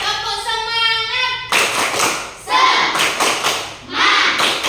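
A classroom clapping game: a teacher's sung chant is followed by bursts of rhythmic hand claps from many children, loud and close, with voices mixed in.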